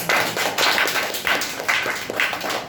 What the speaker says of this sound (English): Well done clap for Diya.